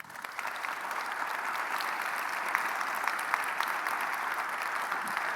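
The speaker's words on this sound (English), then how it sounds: "A round of applause, please." An audience gives steady, moderately distant applause for a health panel at the close of a discussion event, a continuous patter of many hands with a few sharper claps standing out.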